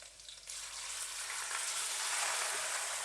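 Small boneless chicken pieces fry in a hot pan with a steady, close, broadband sizzle that swells slightly after the first half second and stays even, with no talking.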